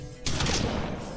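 A gunshot in the video game Hard West: one sharp, loud blast breaks in abruptly after a brief lull, then rings out briefly with a noisy tail, no speech over it.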